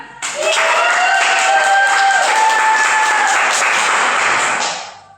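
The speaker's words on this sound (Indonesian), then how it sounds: "Tepuk tangan" A class of students claps together for several seconds, a dense, close burst of applause mixed with some voices and cheering that swells quickly and then fades out.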